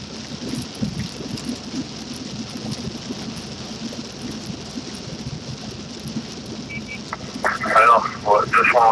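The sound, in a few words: heavy rain while driving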